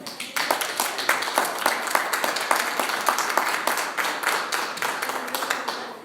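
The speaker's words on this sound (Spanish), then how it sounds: "Den un aplauso al Señor" Church audience clapping in praise to the Lord during a Spanish-language sermon, loud sustained applause with distinct individual claps, starting abruptly and continuing throughout.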